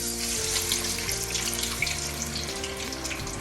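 French fries sizzle in hot oil at 350 degrees, a loud, continuous hissing bubble with low shifting tones underneath and no talking.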